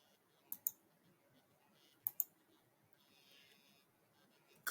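Computer mouse clicks at a desk: two quick double-clicks spaced apart, then a faint rustle and a final click at the end, close and crisp against a near-silent background.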